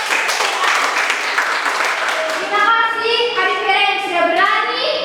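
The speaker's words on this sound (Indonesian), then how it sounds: "Kita berikan tepuk tangan." Students in a classroom clap their hands together in a brisk, close burst of applause, soon overtaken by voices speaking and calling out over the fading claps.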